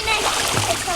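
Water splashing at a pond's edge where children play with toy construction trucks, with a short splash burst amid the kids' overlapping chatter close by.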